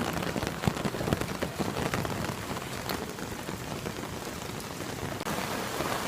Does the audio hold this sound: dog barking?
no